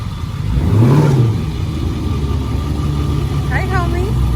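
A Dodge Charger 392 Daytona with muffler and resonator delete gives a brief deep rev that swells and fades near the start, then settles into a rumbling idle, with a voice speaking briefly over it.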